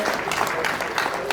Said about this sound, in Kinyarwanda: Tubakomera amashyi menshi basaza bawe hanze.